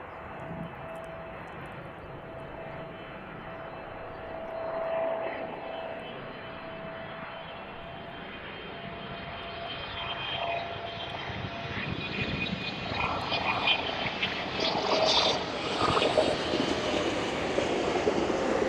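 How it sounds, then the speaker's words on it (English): A Boeing 777 airliner arriving from Delhi at East Midlands airport, its jet engine roar rising steadily from a distant rumble to a louder, broad whoosh as it approaches, with no talking. "next in then, the 777 in from Delhi"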